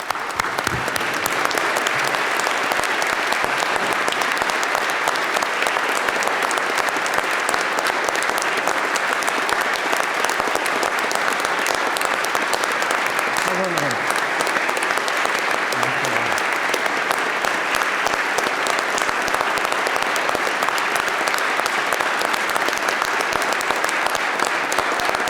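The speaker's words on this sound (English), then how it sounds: "let's have a rouse of applause, a standing ovation for Mr. Billow" Sustained applause from a large audience in a legislative chamber, honoring a resident who is the last survivor of the Malmedy massacre during a standing ovation; dense, steady clapping that continues without a break for about 25 seconds.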